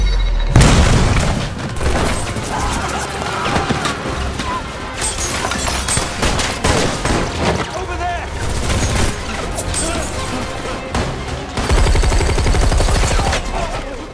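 Heavy explosions and rapid gunfire from an action film terrorist attack on a conference room, loud and dense throughout, with booms and crashes and a fresh blast near the end.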